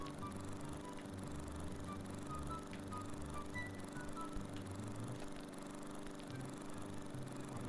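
A lawn mower engine drones steadily and continuously at moderate distance, a constant low rumble with faint mechanical rattles throughout.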